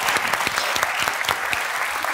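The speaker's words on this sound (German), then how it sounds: "Applaus hier schon mal für den Walk." A live show audience claps steadily for a contestant's walk on stage, brisk individual claps audible within a dense, even round of applause.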